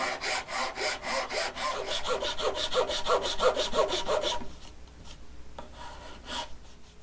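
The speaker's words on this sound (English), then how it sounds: "take a file and carefully, or as carefully as you can, file down the dowels to as close as to the top of the fretboard" A hand file scrapes down wooden dowel fret markers flush with a cigar box guitar fretboard, making quick rhythmic rasping strokes up close before thinning to a few lighter, sparser passes.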